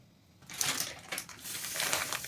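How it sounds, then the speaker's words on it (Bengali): Semolina pours into hot ghee in a wok, giving a soft rushing, crackling sizzle that swells and wavers for about two seconds after a quiet start. "এবার আমরা দিয়ে দেবো সুজিটা,"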